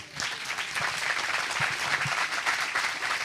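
Warm, continuous applause from a lecture audience at a talk on cosmology and Copernican doctrine, moderately loud and even, with scattered individual claps standing out.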